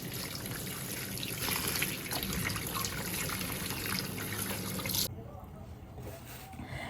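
Tap water runs steadily while onions with rotten outer skins are washed at a home sink, a close, continuous splashing trickle that thins out near the end.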